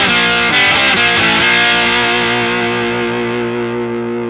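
Distorted Schecter C-1 Exotic Spalted electric guitar with the coil split engaged: a few strummed chords ring out loud and sustained, then decay slowly with no talk over them.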